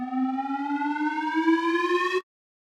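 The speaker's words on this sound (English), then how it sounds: "risers, which are more like tonal ones, so they like pitch up," Tonal synth riser from a melodic techno sample pack: a single bright, harmonically rich tone gliding steadily upward in pitch for about two seconds, then cutting off abruptly into silence.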